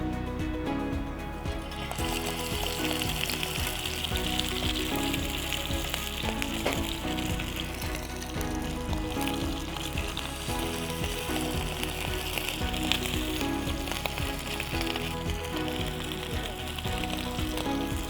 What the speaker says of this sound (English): Now we are going to fry the mackerels in a nice hot pan.